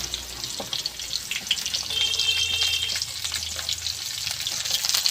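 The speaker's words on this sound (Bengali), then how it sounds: "বরবটি আমি বেশি ভাজবো না অল্প করে ভাজবো" Yardlong beans frying over potatoes with extra oil in a kadai, giving a steady, fairly loud sizzle with faint clinks of stirring, and no voices.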